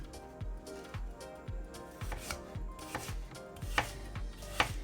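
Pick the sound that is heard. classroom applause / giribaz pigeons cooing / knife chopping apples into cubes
knife chopping apples into cubes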